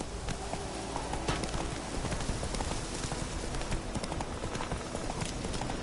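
Rapid clip-clop of the horse Roach's hooves galloping through The Witcher 3 game world, a steady dense rhythm running the whole time with a faint rain-like hiss in the background.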